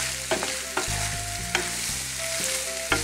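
Pasta re-frying in a hot pan gives off a steady, dense sizzle with occasional stirring scrapes and knocks, close and continuous throughout.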